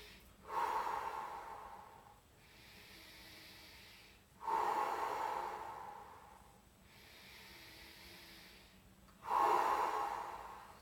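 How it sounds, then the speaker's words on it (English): Three slow cycles of deep, audible breathing during a stretching exercise for back, shoulder and plantar fasciitis pain. Each strong hissing inhale alternates with a softer, longer exhale, close to the mic with no talk. "you can take some breaths."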